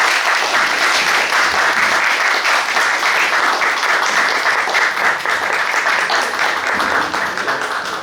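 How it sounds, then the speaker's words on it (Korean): Audience at a Jeonju International Film Festival screening event of Light and Iron claps loudly to welcome the director and actors to the stage, a continuous, even wash of applause from a large crowd close by. "큰 박수로 맞이해주시기 바랍니다"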